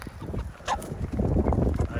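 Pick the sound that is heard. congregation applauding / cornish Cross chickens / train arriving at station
cornish Cross chickens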